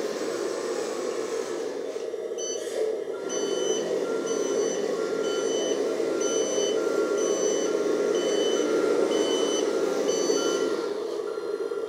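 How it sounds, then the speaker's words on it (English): Reverse alarm on a 1/14-scale RC hydraulic metal dump truck beeps steadily in a regular repeating pattern over a constant electric motor whine, close and clear throughout. "after you drive backward, have the reverse alarm"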